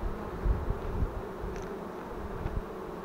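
Bees buzz around an apiary in a village, a continuous close drone with individual insects swooping past the microphone now and then, fairly quiet and with no talk.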